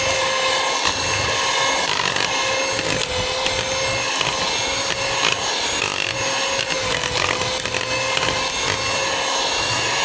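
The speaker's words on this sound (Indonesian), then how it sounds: "Setelah itu masukkan margarin. Kita kocok dengan speed 1." Electric hand mixer running steadily at speed 1, beating margarine into sweet bread dough, a continuous whirring motor hum with a rough grinding texture that holds for about ten seconds at close range with no talking.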